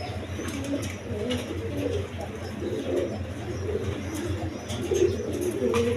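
Pigeons at a fancy pigeon seller's loft coo steadily in low, overlapping rolling calls, fairly close and continuous, with occasional faint chirps in the background.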